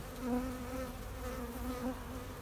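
Honeybees buzzing around hives during a transfer of colonies into nucleus boxes, a dense continuous drone of many bees with wavering pitch, fairly close and steady.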